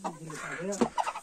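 A rooster gives a few short, close clucks and throaty calls, brief and loud, with faint voices or background noise around them, during a Nepali cowshed worship ritual.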